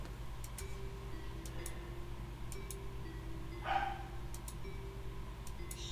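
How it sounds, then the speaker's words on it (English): A dog yips excitedly once in the middle, over a steady low mechanical hum with faint periodic ticking. "There's an excitable dog."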